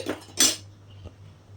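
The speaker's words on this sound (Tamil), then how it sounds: "நல்லா இப்போ ஒரு கிளறி விட்டுக்குங்க" A spoon scrapes and clinks against a metal pot of mutton curry a couple of times, brief stirring strokes close by over a steady low hum.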